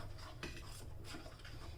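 A ragi finger millet mixture is stirred in a pot with a spoon, making faint, soft scraping and knocking sounds over a low steady background hum, with no voices.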